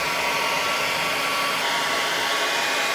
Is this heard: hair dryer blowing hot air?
yes